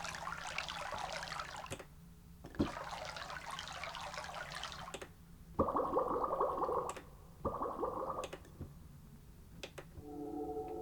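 Stream water effect played on a Roland RD-88 keyboard, bursts of bubbling, gurgling flow triggered in separate notes, some brighter and more tonal, with silent gaps between them.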